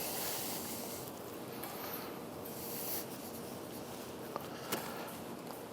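A knife trims the fat off a brisket for barbecue, making faint, soft scraping and rubbing strokes against a steady background hiss, with no talking.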